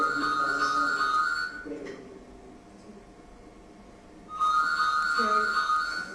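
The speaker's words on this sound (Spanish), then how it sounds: "se escucha un montón de teléfono." A telephone rings indoors during a reading club gathering, in two loud bursts of bright electronic ringing separated by a quieter pause, with room murmur in the background.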